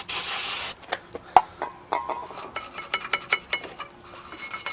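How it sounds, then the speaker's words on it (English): Brake cleaner sprays onto the rear brakes of a 2003 Toyota Camry in a loud, close hissing burst of under a second, followed by scraping, rubbing and tapping noises as the parts are worked on. "We'll take some brake cleaner. Want to clean everything up really good,"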